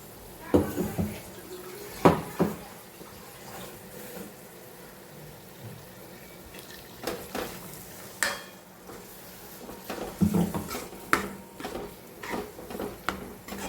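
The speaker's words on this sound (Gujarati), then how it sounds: "અને સહેજ પાણી નાખીશું." Water splashes into pav bhaji cooking in a pan, with scattered clatters and scrapes of stirring and a soft sizzle underneath.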